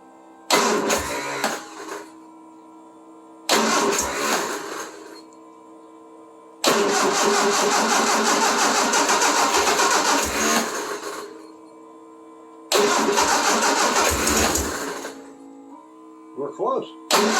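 Triumph Spitfire engine cranking and catching after months sitting, with no choke or throttle: several separate bursts of cranking and rough running with gaps of quiet between, close and loud, one longer run in the middle.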